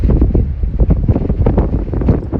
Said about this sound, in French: là on va avoir quand même 80 km/h de vent en fait